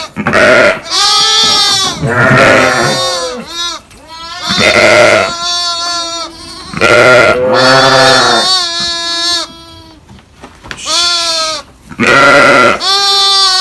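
Loud sheep bleat over and over nearby on a farm, ewes with their lambs, long wavering cries from several animals overlapping and alternating with brief gaps.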